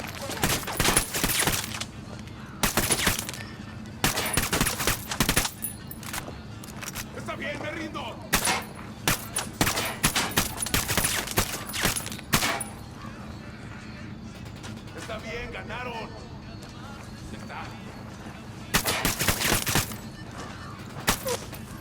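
Video game gunfire while shooting enemies: loud, dense bursts of automatic shots in long volleys broken by short lulls, with busy game noise between.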